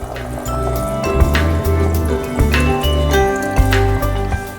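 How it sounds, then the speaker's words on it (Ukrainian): Water is poured into a pot of vegetables for zucchini cream soup, with close splashing, dripping and gurgling liquid that keeps up steadily and loudly throughout. "І доливаємо рівно стільки води, щоб покрити овочі доверху."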